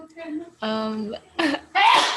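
A series of voiced bursts ends in a loud, sharp sneeze nearby, preceded by throat noises and a sound like a vocal snippet.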